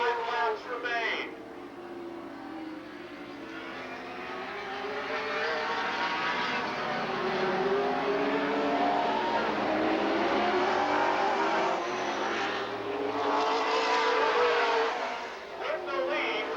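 Super late model race cars roar around an asphalt oval at Lake Geneva Raceway in Wisconsin, engines droning and rising steadily as the pack passes, with a race announcer talking over the sound throughout.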